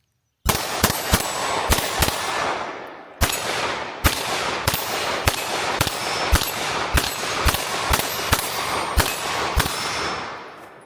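Rapid, sharp gunshots from an S&W .22 Magnum handgun, a long string of close, loud cracks in irregular quick succession with a brief pause near the three-second mark, no talking.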